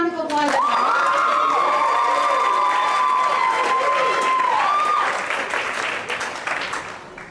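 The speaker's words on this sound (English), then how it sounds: "Give them a big round of applause." Pageant audience breaks into loud applause and cheering just after an award announcement, with whoops and a sustained shouted voice rising over the clapping before it tapers off.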